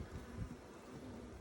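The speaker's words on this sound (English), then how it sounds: "I'll give the bees time to move out of the way" Honeybees buzz around a Flow Hive, a close, steady drone of many wings that swells briefly and then holds.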